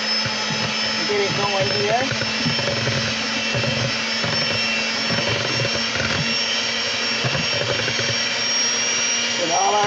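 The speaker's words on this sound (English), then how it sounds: "I'm gonna use this mixer today" Electric hand mixer whirring steadily as it beats butter for a vanilla pound cake, a continuous close buzzing drone throughout with a person speaking briefly over it.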